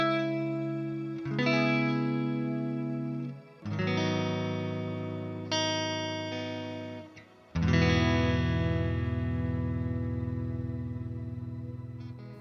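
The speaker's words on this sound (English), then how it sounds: "Let's see what happens if we turn this reverb on." Electric guitar played through the Neural DSP Gojira X plugin with shimmer reverb on: several sustained chords ring out in turn, each swelling into a bright, lingering wash of reverb, with no talking.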